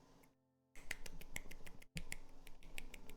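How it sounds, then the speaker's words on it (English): One hand clapping makes a quick series of soft, sharp snapping taps close by, irregularly spaced, with a brief pause before they resume. "But I can clap with one hand too."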